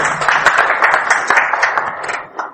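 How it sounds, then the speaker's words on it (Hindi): An audience at a business meeting greets guests with loud, dense applause, many hands clapping at once and fading slightly toward the end. "एक जोरदार तालियों के साथ"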